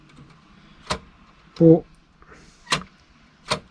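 A Fleischmann 6476 model engine shed door pushed shut, several small sharp clicks and clacks spaced out over a quiet room, with a short muffled bump in the middle and a brief spoken word.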